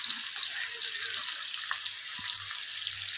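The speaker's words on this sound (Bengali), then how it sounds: "পেঁয়াজটা এবার খুব ভালো করে ভেজে নেব" About 200 grams of thinly sliced onions fry in a pan with cardamom, cloves and cinnamon for a prawn pulao, giving a steady, close bright sizzle with a few faint soft knocks from stirring.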